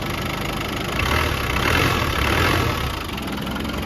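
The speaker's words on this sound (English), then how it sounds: "Alright, we do have a little bit of a muffler rattle." A 1989 Land Rover 110 with a 200Tdi diesel engine idles close by with a steady loud rumble, a slight rise in the middle, and a muffler rattle mixed into the drone.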